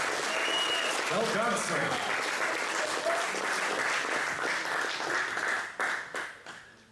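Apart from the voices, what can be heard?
audience applause for a conference speaker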